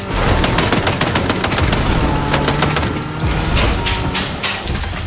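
Rapid, dense automatic gunfire from Fortnite Battle Royale, loud and continuous with overlapping bursts of shots for the whole stretch, no talk over it.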